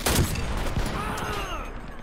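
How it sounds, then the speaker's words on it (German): Two sharp, booming shotgun shots in quick succession in the video game Dirty Bomb, followed by a lingering rumble and faint ringing tones. "der macht zwei Schuss mit der Shotgun"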